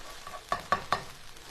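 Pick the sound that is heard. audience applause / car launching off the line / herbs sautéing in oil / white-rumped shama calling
herbs sautéing in oil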